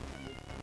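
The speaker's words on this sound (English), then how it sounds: "Meows!" Cats meowing at feeding time in an Atari 2600 homebrew game, a short cluster of meows heard close and clear with no talking over them.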